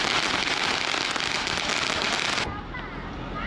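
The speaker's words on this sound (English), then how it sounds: "So they've like come here from the city to set off fireworks." Dense crackling bursts of New Year's fireworks in a rural Chinese village pop rapidly for a couple of seconds, then cut off abruptly, leaving quieter distant rumble.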